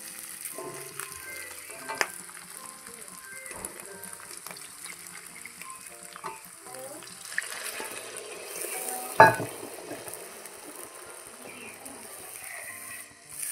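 Quiet sizzling of fish in a pan with scattered utensil clinks and scraping, then a sharper burst of hissing as water hits the hot pan.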